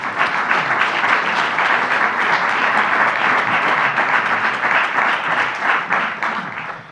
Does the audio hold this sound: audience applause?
yes